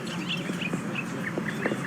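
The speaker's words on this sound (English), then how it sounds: "Yes, so many birds." Small birds chirp and tweet in a New Orleans garden near a church, short bright calls repeating at a moderate distance over a steady background hum, with no voices.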